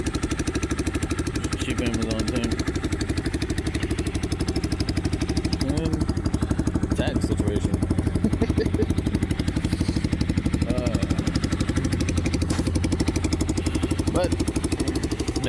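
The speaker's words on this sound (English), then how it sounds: "I'm riding around on a motorcycle" A motorcycle engine runs steadily on a long solo moto-camping trip, a loud, even mid-pitched drone with a fast regular pulse throughout and some rattling clatter on top.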